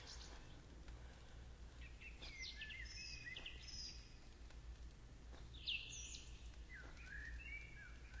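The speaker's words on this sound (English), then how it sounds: "Got some nice little bird sounds going on here as well." Ambient birdsong in the Varney region of the Second Life virtual world: faint, scattered chirps and short calls from several birds over a quiet background hum, with no talk.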